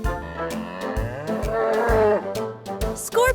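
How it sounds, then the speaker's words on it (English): A bull lowing in a long, drawn-out moo that rises and falls, loud and close, with a steady rhythmic music bed pulsing underneath throughout. "Bull."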